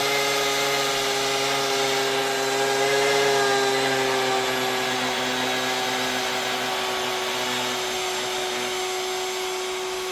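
A VEVOR milkshake maker runs steadily with a loud, constant motor whine and hum, unbroken and alone for the whole stretch.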